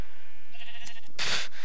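A sheep in Minecraft gives a single short bleat, close and clear, preceded by faint game ambience.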